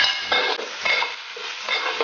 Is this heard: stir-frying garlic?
yes